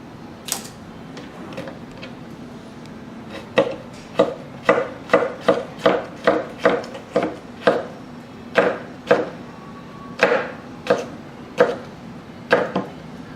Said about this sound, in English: next we're going to do a Julienne on a pepper here